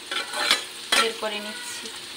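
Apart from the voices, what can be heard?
vegetables frying with cashews and raisins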